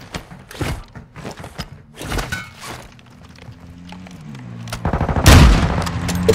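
Video game gunfire rings out in uneven bursts of close shots and thuds, building to a loud, dense volley near the end.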